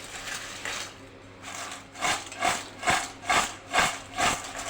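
Crispy homemade fried snack tossed with sprinkled spices by hand, giving a run of six rhythmic, close rustling crunches after a quieter start, with no talking.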